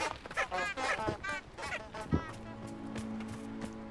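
Dodo birds in the Hogwarts Legacy video game call with a series of honking, goose-like squawks in uneven bursts, loud and close, then fade to a low steady background hum.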